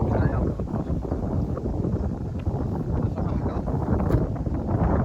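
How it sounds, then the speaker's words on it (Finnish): Strong wind buffets the microphone on a disc golf course in a continuous low roar, loud and gusty throughout, with no other clear sounds standing out. "On kyllä tosi paha tuuli."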